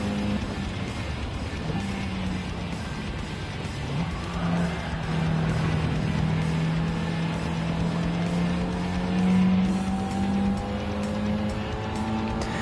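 Race cars in Gran Turismo 7 on PSVR2, a loud continuous engine roar whose pitch climbs and shifts as the cars accelerate, with other cars whining close by and no speech.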